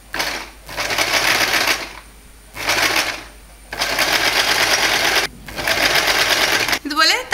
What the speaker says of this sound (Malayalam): നമുക്കിതിന്ന് ഇതുപോലെ സ്റ്റിച്ച് ചെയ്ത് പോകാം.